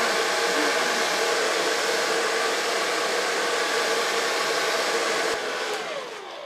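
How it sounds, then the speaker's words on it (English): A hair dryer blows hair steadily and loudly near the microphone for most of the time, its airflow shifting slightly and easing off toward the end. "So far blow drying."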